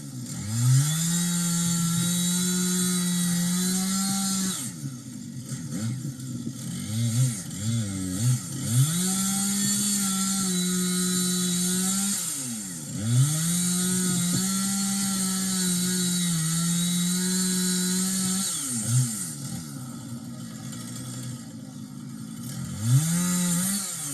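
Chainsaw cutting firewood, close and loud, with the engine revving up and bogging down under load in repeated cycles, dropping to idle between cuts.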